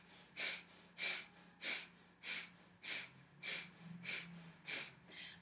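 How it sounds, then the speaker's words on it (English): Breath of fire, a yoga breathing exercise of rapid, forceful exhalations through the nose: about nine even, sharp nasal puffs at a steady rhythm, close and fairly quiet, with no talking. "So I'm breathing in and out through the nose and I'm using the abs contracting, exhaling to push the air out."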